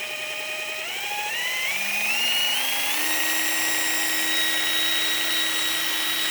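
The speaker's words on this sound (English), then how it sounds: "We're going to fire this up and we're going to run it at max RPM" A belt sander with a coarse belt spinning up to maximum speed for axe sharpening, a whining motor that climbs in pitch over the first seconds then holds a steady high whir, loud and close with no speech.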